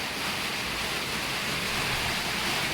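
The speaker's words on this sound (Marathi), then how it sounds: "पाऊस आलाय की मस्त वाटते." Rain falls over a village, making a dense, even hiss that holds steady throughout at a moderate level, with no voices.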